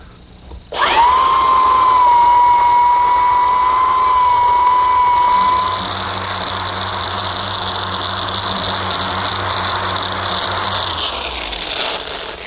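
A belt sander fitted with an 80 grit belt runs across a butcher block countertop, a loud, steady motor whine with a high tone that shifts into a lower, constant grinding hum midway, close up and without speech.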